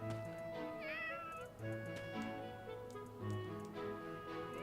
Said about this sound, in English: Hey, kitty cat.